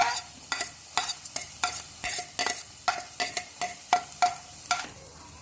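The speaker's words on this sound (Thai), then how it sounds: "ผัดให้หอมนะครับ เป็นเครื่องต้มย ำ ใส่พริกลงไปนะครับ" Tom yum paste and chili being stir-fried in a pan, with a soft sizzle under about a dozen rhythmic spatula scrapes and taps at a close, even pace.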